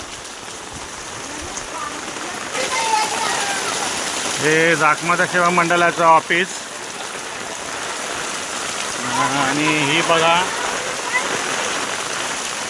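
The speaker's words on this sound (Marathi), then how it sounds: "3-4 दिवस असा तुफान पाऊस पडतोय ना" Heavy monsoon rain in a Konkan village pours as a steady, loud hiss throughout, while a voice talks over it in two stretches.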